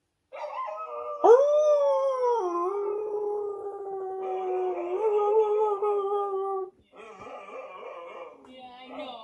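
A dog howls at length in wavering, drawn-out tones that rise and fall with whimpering inflections, loud and close, broken by a brief pause before continuing.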